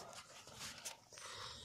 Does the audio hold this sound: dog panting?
yes